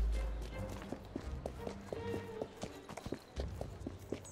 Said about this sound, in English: Don't run into the horse.